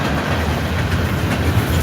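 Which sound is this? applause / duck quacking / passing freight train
passing freight train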